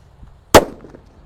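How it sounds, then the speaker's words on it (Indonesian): A Sunflower firecracker set off in the ground during an Idul Adha celebration goes off in one sharp, loud bang with a short ringing decay, then quiet. "Selanjutnya di sini ada mercon Sunflower ya."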